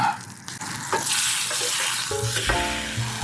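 Meat laid into a pan on a camping stove turned to its lowest setting, a steady close sizzle of frying with stirring and scraping clatter from utensils against the pan.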